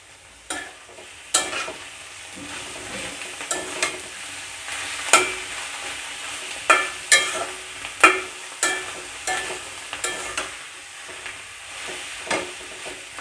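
Sachi greens stir-fried in oil in a pan, with a continuous close sizzle and a series of sharp spatula scrapes and clatters recurring every second or so, no voices.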